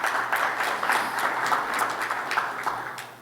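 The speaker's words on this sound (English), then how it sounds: "How about a round of applause for our panel?" Conference audience applauding a newly introduced panel of speakers, a steady wash of many hands clapping for the full stretch at moderate loudness, with no talk over it.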